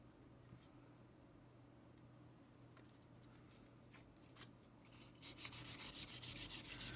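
A plastic model kit part is rubbed with sandpaper, a soft, close scratching that stays faint at first, then grows into a steady rhythmic back-and-forth rasp near the end.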